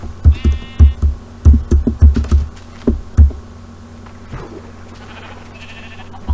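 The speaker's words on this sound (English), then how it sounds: "Gosh, how many sheep am I shearing?" Sheep in the Minecraft 1.0.0 video game bleat in a quick series of short, loud, close calls, several bunched together, over a faint steady hum and soft game ambience, with no talking.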